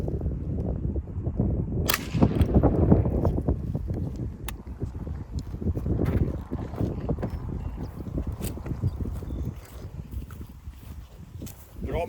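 A .22 rifle with an 18-inch Savage barrel firing Winchester Super X rounds at a Spanish M65 steel helmet, a sharp crack cutting through outdoor noise with people talking.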